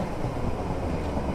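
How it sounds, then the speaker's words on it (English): A freight train passing in Train Simulator 2015 on the Bedford to St Pancras route, a loud continuous low rumble and roar of rolling wagons filling the whole moment without pause or speech. "Is that a train? Yeah, that's a train."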